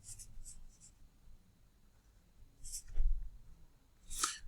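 A pen outlines a drawing on paper with quiet scratchy strokes in short bursts, close and faint, and low murmurs of background sound between the strokes.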